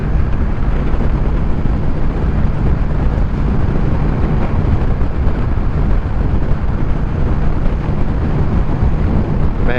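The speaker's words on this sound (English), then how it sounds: "that wind is starting to come through" Steady, loud wind buffets the microphone on a motorcycle cruising the interstate, making a constant broadband roar with no letup and no voices.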